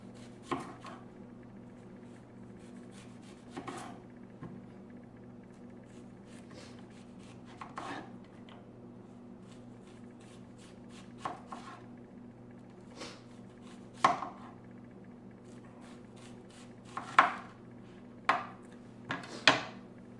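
A knife taps sharply on a cutting board, sparse slices at first, then quicker cuts near the end, in a quiet room.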